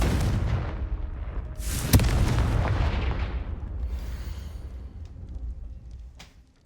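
A Confringo explosive spell in Hogwarts Legacy blasts with a loud booming burst, its heavy rumble rolling and slowly fading over several seconds with a few faint crackles near the end.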